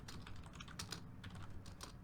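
Rapid, irregular clicking of keys on a computer keyboard, steady and close, with a low background hum beneath and no voices.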